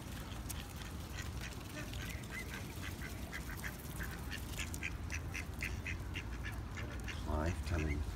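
Ducks quack repeatedly at close range among swans at a waterside feeding spot, a steady run of calls over constant low background rumble, with a louder burst near the end and some voices in the background.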